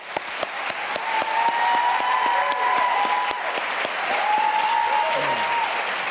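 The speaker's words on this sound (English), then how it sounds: "I think this is one time when we ought to just give them both a real round of applause." Debate audience applauds the Virginia attorney general candidates with a full, sustained burst of clapping, individual sharp claps standing out over a steady crowd roar, with a faint tonal whine running through it.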